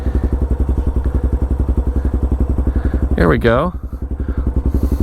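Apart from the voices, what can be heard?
motorcycle rolling slowly in gear with clutch let out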